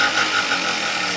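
A two-stroke 50cc scooter engine, running lean after a no-start, drones steadily and loudly nearby with a buzzy, high-pitched whine and no break over a brief moment.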